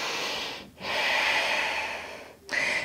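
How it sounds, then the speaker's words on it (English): Slow yoga breathing on all fours, a long steady breath close to the ear, a brief pause, then a second inhale or exhale beginning, loud and airy with no talking. "Inhale, exhale here."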